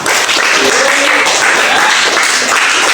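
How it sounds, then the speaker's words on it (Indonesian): A classroom of students applauds a classmate during an Islamic studies lesson on the Qur'an and Hadith, a steady, dense wash of hand claps filling the whole moment at close range. "saya tepuk tangan dulu untuk Fahri."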